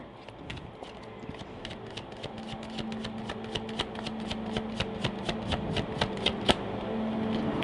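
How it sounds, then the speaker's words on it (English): Tarot cards being shuffled in steady, rapid riffling with sharp regular snaps, close by and fairly quiet, continuing throughout. "Take a look at your cards while I shuffle."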